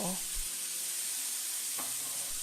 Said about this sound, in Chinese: 加入猪肉馅，稍作翻炒，加入生姜、桂皮、大料，继续翻炒